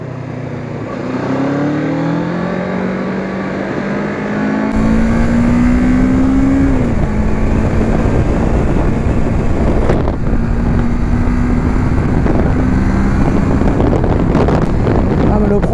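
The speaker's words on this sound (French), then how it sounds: "Il a une sonorité très sympathique aussi lui. Alors si j'ouvre un peu là," A Kawasaki Ninja 650 sport motorcycle engine idles, then revs higher and holds a loud, rising exhaust note, with heavy wind buffeting the microphone.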